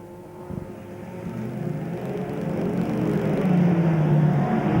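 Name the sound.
F2 stock cars racing down the back straight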